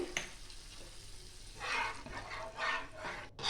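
Water poured into a pan of sizzling fried mustard spice paste for a bhola fish curry, a quiet frying crackle that swells into louder bursts of hissing sizzle.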